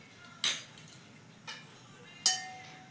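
A metal cake tin is set on a stand inside a pot of salted water for steaming, giving two sharp metallic clanks with a softer knock between them, close and clear in a quiet kitchen.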